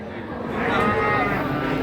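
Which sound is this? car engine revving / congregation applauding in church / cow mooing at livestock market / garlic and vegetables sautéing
cow mooing at livestock market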